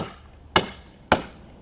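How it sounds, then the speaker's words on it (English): Two sharp hammer strikes land about half a second apart, each a crisp close impact with a quick decay, used while fitting screws through MDF for routing shapes. "So this is a hammer."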